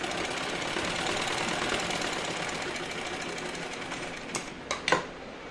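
A sewing machine runs in a steady, continuous whir while stitching pleats into a belted salwar, then gives a few brief louder clacks near the end as the stitching stops.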